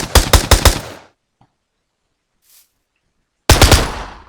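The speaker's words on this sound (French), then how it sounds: "le petit pistolet, enfin la petite mitraillette" A submachine gun in a Minecraft gun mod fires a rapid burst of about six shots, falls silent for over two seconds, then opens up again with another quick burst, loud and close, with no voices.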